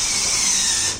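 Motors of a solar powered Arduino robot driving forward, a brief loud high buzzing whir that holds steady and then begins to fade at the end.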